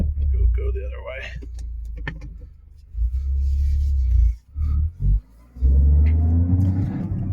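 A Toyota Corolla GR hatchback reverses on a closed road, its engine a steady low rumble with brief dips and surges as it shifts and moves; a person talks over it at times.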